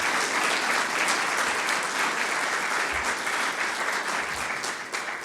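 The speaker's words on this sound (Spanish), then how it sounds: "Dele una ofrenda de palmas a Dios por su amor y su misericordia." A church congregation applauding, a dense, even wash of many hands clapping that fades slightly toward the end.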